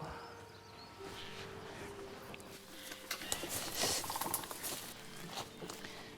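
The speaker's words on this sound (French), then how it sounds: "Là, après la pluie, ça coule, ça coule, ça coule." Rainwater trickles and flows outdoors as a steady, soft wash with faint patter. It grows slightly busier toward the middle and stays fairly quiet throughout, with no talking.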